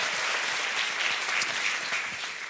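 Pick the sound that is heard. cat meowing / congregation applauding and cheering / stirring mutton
congregation applauding and cheering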